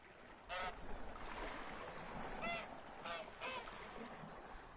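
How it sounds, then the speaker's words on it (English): Duck in the video game Summer in Mara, giving several short nasal quacks at around half a second and again near two and a half to three and a half seconds, mid-distance over a steady ambient bed of game sound. "I don't think we can feed that duck"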